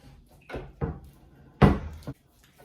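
A homemade apple cider press being cranked gives several short creaking, knocking bursts, two early and a louder pair later, close by with quiet pauses between.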